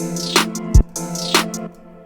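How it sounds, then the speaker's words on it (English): A sustained synth chord with two bright clap hits stacked over it and a low thump between them, spaced evenly in a slow repeating pattern. "So what I have is 2 clap samples,"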